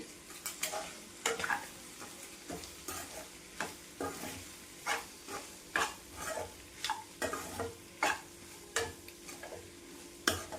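Goat tripe pieces fry with coconut powder in a pan for a spicy Telangana-style boti fry. A utensil stirs and knocks against the pan in uneven bursts over a soft, continuous sizzle, heard up close with no voices.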